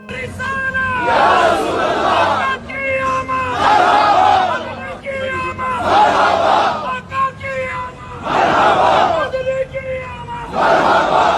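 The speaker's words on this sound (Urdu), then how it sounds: "روزہ رسول پر بھی جا کر غلام ہے رسول کے غلام ہے کہ نعرے لگا کر" A large crowd chants slogans at the Prophet's tomb, loud unified shouts rising in repeated bursts about every two seconds, with a massed roar of voices sustained between each call.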